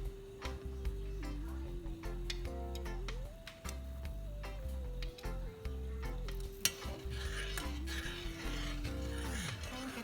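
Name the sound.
stirring blueberry jam sauce while adding thickener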